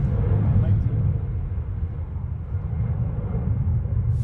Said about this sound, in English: The audio's moving with the background noise of the planes